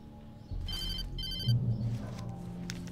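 An old-style telephone bell rings in the video game Alan Wake, two short bursts of ringing over a low steady hum and dark ambient game music, fairly close and clear.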